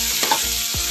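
Spaghetti toasting in a pan, a short burst of close sizzling with two or three scraping stir strokes.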